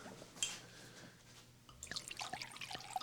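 Red wine splashes and trickles into a hot pan, faint at first, then a wetter burst of pouring and gurgling drips in the last second and a half.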